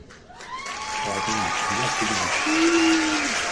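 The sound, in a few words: audience applause for Richie Ray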